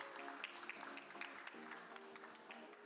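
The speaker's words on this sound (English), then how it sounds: "Please give him a big round of applause" A conference audience at a startup event in Seoul claps steadily, many scattered hand claps blending into a continuous, fairly faint round of applause with no speech over it.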